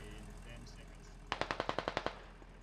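A rapid burst of about eight automatic rifle shots from the game Squad rings out in an even rhythm after a quiet, low hum, each crack sharp and fairly close.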